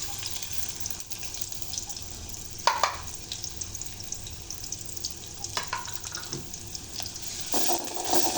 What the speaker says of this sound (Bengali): এরপরে তেলটা গরম হয়ে এলে এখানে ঢেলে দিচ্ছি পেঁয়াজ কুচি।